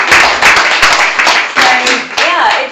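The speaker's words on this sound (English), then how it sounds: "Let's give them a round of applause." Audience applause closes a monthly member spotlight, a burst of hand clapping from a gathered crowd lasting a few seconds, with faint voices mixed into the clatter.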